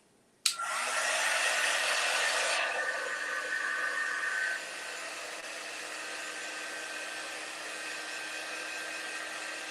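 A handheld hair dryer blasts steadily at close range over chalk paint stars on a chalkboard, switching on with a sharp click and then dropping to a lower, quieter setting partway through its nearly ten-second run.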